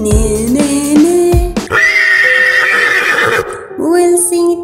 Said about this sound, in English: We'll see the horse, healthy strong horse,